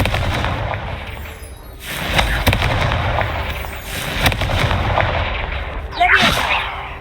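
Confringo blasting spells in Hogwarts Legacy, a series of sharp firework-like bangs and crackling bursts, one at about two seconds and another near four, with a whooshing burst near the end, loud over game ambience.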